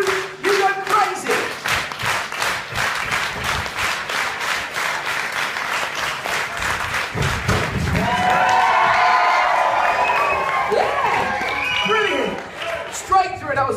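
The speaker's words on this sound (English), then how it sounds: "we're going to start a hand clap that goes like this" A live-show audience at Thorpe Park claps in a steady, even rhythm, loud and close, then the beat breaks into looser cheering and chatter near the end.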